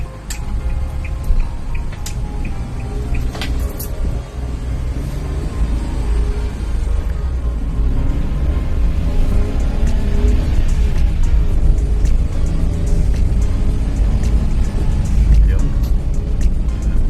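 A Suzuki DA17V 4x2 van with Tiptronic AGS drives over a bumpy stretch of road, heard from inside as a constant road rumble with scattered ticks and small rattles while a person talks throughout.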